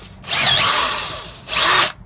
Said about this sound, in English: if I drill that's just a tiny bit bigger to get all the old sealant out of there